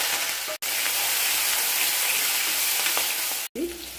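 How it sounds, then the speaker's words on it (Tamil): Tomato and curry leaves sautéing in hot oil with mustard seeds and shallots, a steady loud sizzle close by, briefly cut twice by abrupt breaks. "ஒரு தக்காளி, கருவேப்பிலை போட்டு வதக்கிக்கலாம்."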